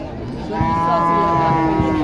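A Sahiwal cow at a cattle market lets out one loud, close, drawn-out moo lasting over a second.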